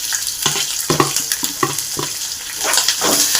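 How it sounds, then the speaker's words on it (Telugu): Onions and green chillies sizzle steadily in a hot pan for poha, with repeated stirring scrapes and spatula clacks over the continuous close frying hiss. "ఇది కూడా ఫ్రై అయ్యేంత వరకు ఫ్రై చేసుకుందాం."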